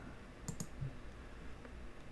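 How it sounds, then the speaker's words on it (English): Arrow keys on a computer keyboard give a few faint, quick clicks, two close taps followed by a softer one, against a quiet background hum. "now I'm using the arrow keys on my keyboard here to move"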